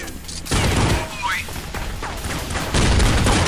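Gunfire from a P90 and a shotgun in Counter-Strike comes as loud, dense bursts of shots with sharp onsets and brief game effects between them.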